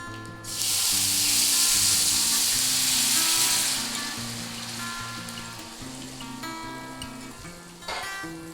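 Water poured into a hot pan holding turmeric and fish for a Bengali fish curry: a loud close sizzling hiss bursts up, holds for several seconds, then eases into a quieter bubbling simmer with a short sputter near the end.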